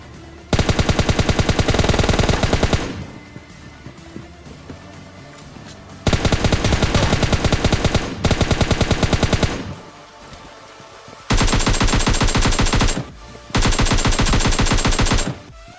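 Automatic gunfire in the mobile shooter PUBG Mobile Lite, heard as four long, loud, rapid bursts of continuous shots separated by short pauses, with no talking.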